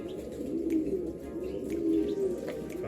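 Breeding pigeons in a loft coo steadily and continuously, a low rolling murmur from several birds close by, with faint higher rustles and no voices.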